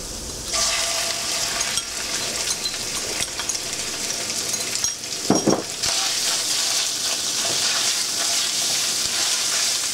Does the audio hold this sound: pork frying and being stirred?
yes